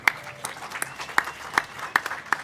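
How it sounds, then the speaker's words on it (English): At a women's diversity debate event in Perth, a few people in the audience give brief applause. It comes as sparse, separate handclaps spaced irregularly, fairly close, over a quiet room. "So a round of applause for Sally and everything that Edge do"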